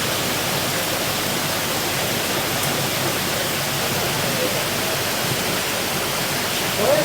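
A steady wash of splashing water from showers pouring into a heated indoor koi pond, a constant broadband hiss that stays loud and unbroken throughout.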